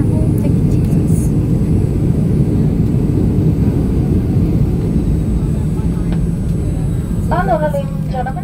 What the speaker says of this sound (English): We'll be taxiing for the next few minutes for your continued comfort